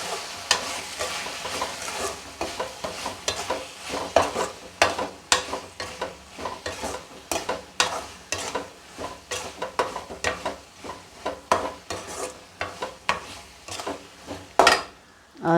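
Mutton sautéing in a pan with turmeric and curry masala, with repeated scraping stirs and clinks of a spoon against the pan over a low sizzle, the strokes coming in an uneven rhythm up close.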